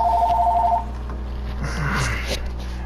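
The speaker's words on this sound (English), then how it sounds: "I can go one episode without the phone going off, man." A telephone in a room rings with a steady two-tone chirp for under a second, then cuts off, leaving a low background hum with no talking.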